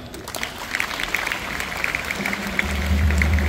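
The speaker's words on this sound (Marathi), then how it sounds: "सर्वप्रथम सर्वांनी टाळ्या वाजवून त्यांचं स्वागत करावं." Audience at a Maratha High School Nashik anniversary function clapping to welcome the general secretary, a dense patter of hands over a low hum that grows louder near the end.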